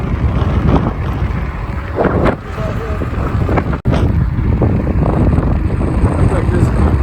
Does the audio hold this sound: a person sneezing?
no